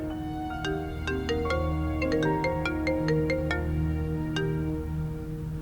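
A mobile phone rings with a bright electronic melody of quick repeated tones, clear and alone at moderate volume.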